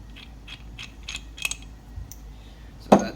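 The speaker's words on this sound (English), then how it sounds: "take flywheel puller off." A flywheel puller is removed from a Yamaha Blaster engine, with a few faint metallic ratcheting clicks and small taps ending in one sharper close clunk, alone and with no talking.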